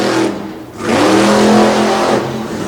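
A racing bus powered by a 565 cubic inch Ford racing engine accelerates hard, its loud, close engine note rising and holding in a strong roar after a brief dip, no voices.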